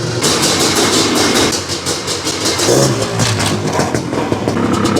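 A 2023 Honda CR500AFL dirt bike engine running loud and close, a raw rapid-firing two-stroke roar with rising revs and rhythmic pulsing, no talk.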